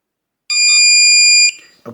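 A Weiser SmartCode traditional keypad deadbolt gives one loud, steady electronic beep about a second long during a reset, followed by a faint click.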